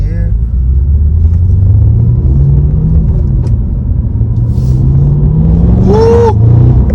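A 2022 Cadillac CT5-V Blackwing pulling away hard, its engine note climbing steadily through the gears as a loud, continuous rumble heard from inside the cabin, with a voice briefly exclaiming near the end.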